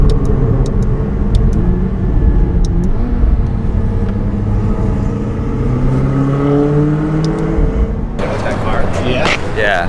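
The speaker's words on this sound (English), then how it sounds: "That Corvette is so loud." A loud Corvette engine rumbles and revs close by, rising and falling in pitch through several throttle changes, with a brief roar near the end. Voices can be heard over the engine noise.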